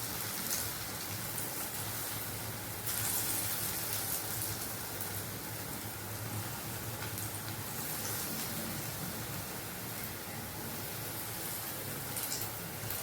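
Kara bonda batter frying in hot oil, producing a steady, dense crackling sizzle that stays close and even for the whole stretch, with no voices over it.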